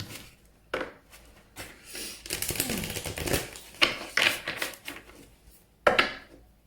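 Oracle cards from a Ganesha deck and a Life Purpose deck are shuffled by hand, giving repeated riffling and rustling swishes with sharp taps of the cards between them, close up and with no talking.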